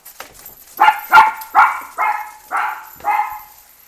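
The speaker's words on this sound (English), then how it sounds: "Let me go see what my dogs are barking about." A dog barks six times in a fairly steady rhythm, close and loud, with no other voices.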